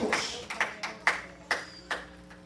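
A church congregation claps during a sermon, about six spaced bursts of clapping in a loose rhythm, moderately loud in a reverberant hall with faint voices beneath.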